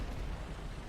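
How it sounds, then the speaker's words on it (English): A tank's ammunition explodes in the video game War Thunder as a dense, continuous roaring blast that fills the whole moment at moderate loudness, without speech. "That sets off an explosion."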